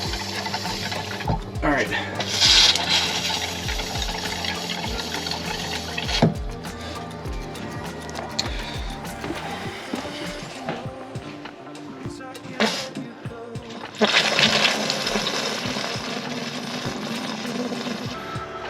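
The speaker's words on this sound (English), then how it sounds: "so the compressor is building up more air. I guess that is the downside of a small pancake compressor" A small pancake air compressor blows air through an RV's water lines, sending sputtering bursts of air and water through the plumbing with hissing surges and knocks. Someone speaks briefly.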